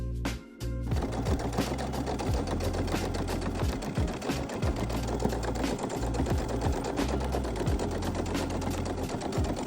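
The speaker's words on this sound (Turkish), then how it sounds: "Ve bu şekilde katlayarak çift dikiş geçiyoruz." Sewing machine double-stitching the folded shoulder seams of a homemade denim jacket, a steady close mechanical whir with rapid needle clatter running almost the whole time after a brief pause at the start.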